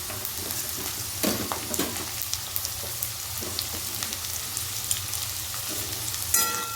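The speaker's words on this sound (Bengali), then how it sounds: "বিনসটাকে 1 মিনিট ভাজার পর কিন্তু এর ভেতরে আমি ক্যাপসিকামটা দিয়ে দেব" Beans and chopped capsicum frying for fried rice, a steady close sizzle broken by occasional scrapes and clinks of stirring in the pan.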